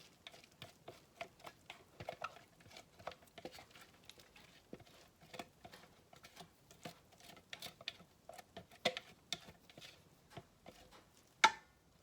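Chopped onions dropped into a bowl with a colander while preparing chili sauce, heard as faint scattered patters and light ticks through the clip, ending with one sharper knock.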